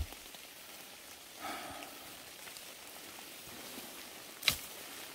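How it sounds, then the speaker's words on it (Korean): Steady rain falls through a forest onto wet fallen leaves, a soft continuous patter with one sharper drop or splash near the end, no voices. "비가 아주 시원하게 아주 잘 옵니다."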